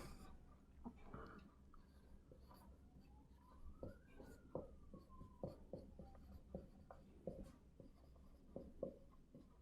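Faint marker or chalk strokes on a board during a classroom lecture, a series of short scratchy taps and squeaks at an irregular pace, quiet and close with low room hiss and no clear talk.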